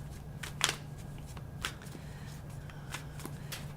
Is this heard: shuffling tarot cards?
yes